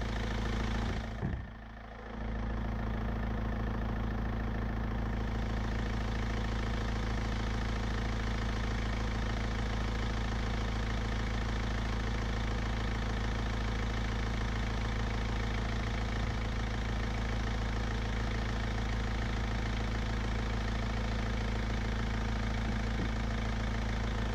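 A Mercedes C 220 coupé engine starts with a brief crank and settles into a steady, even idle, a low continuous hum that runs on alone at close range.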